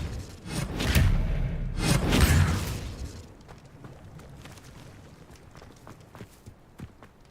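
Expelliarmus spell cast in Hogwarts Legacy: two loud, forceful magical bursts land close together with a whooshing rush, then settle into faint scuffling steps and low ambient noise.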